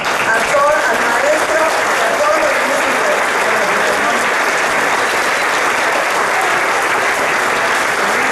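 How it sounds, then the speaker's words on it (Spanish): Loud, sustained applause from a crowd at a philharmonic orchestra event, continuous and close, with voices faintly audible under the clapping. "Recibámoslo con un aplauso."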